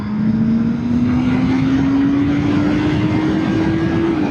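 Loud, continuous motorcycle engine drone with a steadily rising pitch as it downshifts and accelerates, buried in heavy rushing wind noise.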